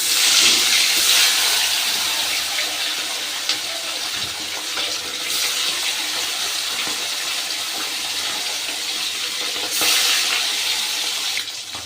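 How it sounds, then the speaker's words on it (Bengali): Pomfret fish frying in hot oil in a pan makes a loud, steady hiss that runs unbroken for about twelve seconds, swelling slightly near the start and end. "বাকি মাছগুলো ভেজে নেব।"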